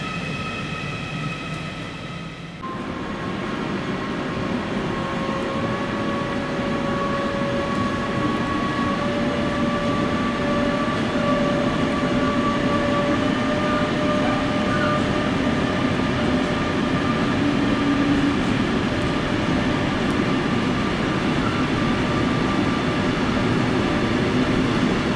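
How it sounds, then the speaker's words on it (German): ICE high-speed train pulling out of Kassel-Wilhelmshöhe station at night, a sudden start then a steady loud hum with rising whining electric tones sustained throughout, no talk. "Der letzte ICE des Tages, ja, ab jetzt bis um 6 Uhr fährt kein ICE mehr hier lang."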